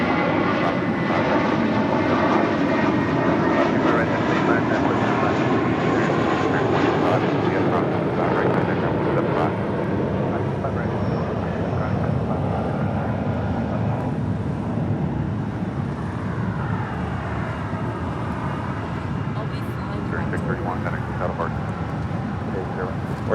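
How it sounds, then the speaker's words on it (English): Southwest Airlines Boeing 737 MAX 8 arriving at LAX from Phoenix makes a long, sustained engine roar that holds strong and then slowly eases, with faint voices in the background. "This flight coming in from Phoenix, Arizona, the 737 MAX 8"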